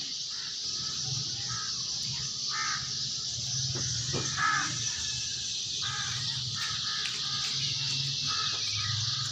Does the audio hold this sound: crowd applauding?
no